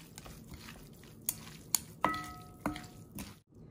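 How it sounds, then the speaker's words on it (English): Lime being stirred into larb dip in a bowl: a few soft scraping and clinking knocks of a utensil against the dish, close and fairly quiet, with light wet mixing sounds in between. "and then give it a good mix"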